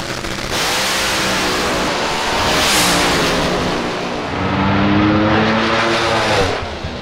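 A drag racing car makes a 252 mph pass down a Boise dragstrip during first-round eliminations, its engine a loud, close, continuous roar that swells and sweeps for the full seven seconds with no talk.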